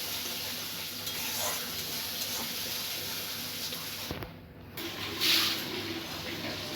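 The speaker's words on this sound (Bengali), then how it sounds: "আদা রসুন পেঁয়াজ টমেটোমের যে পেস্ট সেটা ভাজা ভাজা হয়ে গেছে।" A ginger, garlic, onion and tomato paste frying in hot oil for a fish curry, giving a steady, close sizzle with occasional stirring scrapes and a brief dip in the hiss midway.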